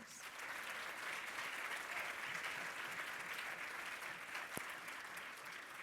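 Steady, dense applause from a large audience at a school performance launch event, a broad continuous wash of many hands clapping at even loudness throughout, with no talk over it.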